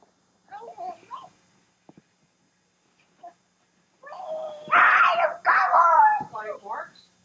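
Dog at a family Christmas gathering at a grandmother's house around 1990, whimpering and yipping in a few brief high-pitched bursts, with people talking nearby and louder voices toward the end.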